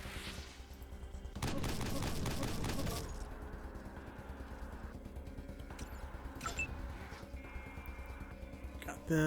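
Gunfire in Wasteland 2 comes as a dense burst of rapid shots, followed by quieter scattered clicks and a sharp report at the end, with speech faintly present.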